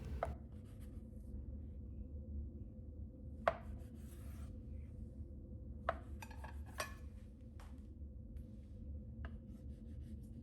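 A knife cuts soft potato dough into pieces on a board, its blade dusted with cornflour, giving a few separate quiet taps and scrapes spread out over a low steady background hum.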